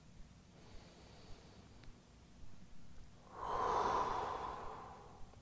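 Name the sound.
deep breathing during a yoga pose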